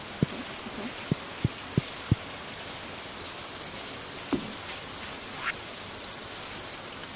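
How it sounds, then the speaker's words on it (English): Rain falling on a farm in the video game Stardew Valley: a soft, steady patter, with a few sharp drop-like taps near the start and a faint hiss that brightens partway through. "Ah, refreshing rain, a farmer's best friend."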